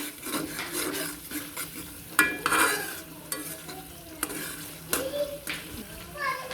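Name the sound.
stir-frying spice masala in a pan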